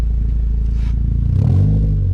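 A Honda Civic Si fitted with a Skunk2 Megaflow exhaust idles loudly up close, then gets a brief rev that swells the low exhaust rumble near the end.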